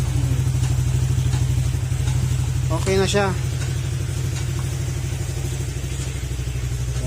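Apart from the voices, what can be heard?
Honda Click 125 motorcycle engine running after overhaul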